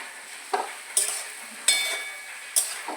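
Capsicum, onion, tomato and chili fry in a pan for chilli chicken, a soft sizzle broken by four or five sharp scraping strokes of a spatula against the metal, spaced about a second apart and heard close up.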